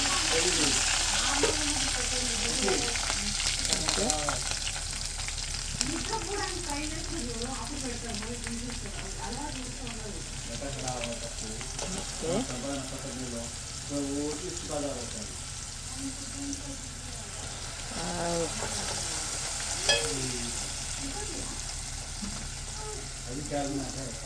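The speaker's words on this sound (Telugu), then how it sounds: "నూనె అయితే వేడైపోయింది. తర్వాత కొంచెం ఇంగువ కూడా వేసుకుంటాను." Asafoetida sizzles in hot oil with a steady, moderately loud hiss, and a voice-like murmur runs beneath it throughout.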